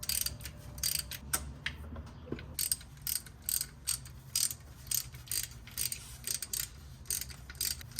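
A ratchet wrench backs out the bolts on a Saab 900 Turbo differential cover: bursts of rapid metallic clicking repeat in a steady rhythm, close and fairly loud, with short pauses between strokes and no talking.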